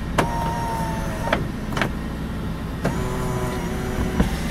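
Lexus RX 330 moonroof motor running through its reset cycle, a steady electric whir broken by several brief clunks as the glass travels forward and closes, heard up close with no voices.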